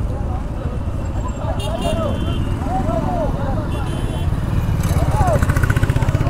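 A long column of motorcycles rolls past together during an Independence Day rally, a continuous rumbling drone of many engines with rising revs toward the end, while people talk nearby and horns sound briefly.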